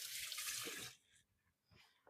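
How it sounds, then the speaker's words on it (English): Hands rinsed under a running kitchen tap: a loud, steady gush of water for about a second, then brief quieter splashes and drips as the hands move, close by. "Let me get my hands a quick little rinse."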